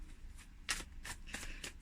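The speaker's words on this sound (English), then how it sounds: "I'm going to go ahead and shuffle the cards" A deck of reading cards is shuffled by hand, with a few quick riffling bursts and soft slaps in close succession, near and clear in a quiet room.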